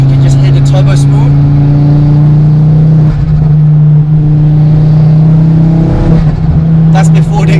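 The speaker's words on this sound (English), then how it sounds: "if I put my foot down a little bit, you can just hear the turbo spool" A turbocharged Ford Focus ST with a forged engine pulls hard under acceleration from around 3000 RPM, its loud, steady engine drone rising with turbo whine, recorded close from inside the car.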